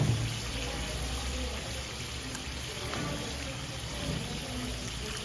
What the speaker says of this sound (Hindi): अब इसमें मैं पानी डाल दे रही हूँ